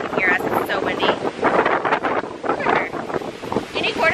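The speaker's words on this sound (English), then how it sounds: "It's so windy." Heavy wind buffets the microphone in loud, rumbling gusts, with voices talking faintly underneath the roar.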